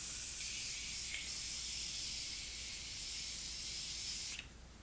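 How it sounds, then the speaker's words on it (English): Tarte Maracuja Miracle Mist setting spray hisses steadily in one long continuous mist burst lasting over four seconds, close and fairly loud, then cuts off abruptly. "I'm gonna go in with this Tarte Maracuja Miracle Mist"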